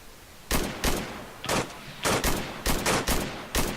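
Gunfire from a building in the video game Arma 3: sharp, loud individual shots and short bursts crack out at uneven intervals over a quiet background, some in quick doubles.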